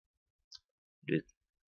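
Two quick computer mouse clicks, a faint short tick followed by a louder, fuller click about half a second later, close up in an otherwise silent room.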